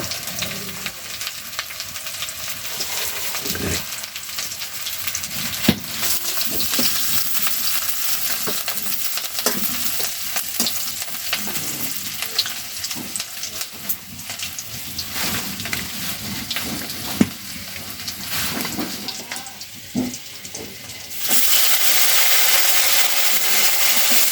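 Onion and green chili frying in oil, a continuous loud sizzle with scattered stirring clatter and knocks, the hiss growing stronger and brighter toward the end.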